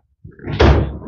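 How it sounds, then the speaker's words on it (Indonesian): A door being shut: a swinging creak leads into a firm, heavy thud, close and loud, with a short rumbling tail. "Tutup pintu."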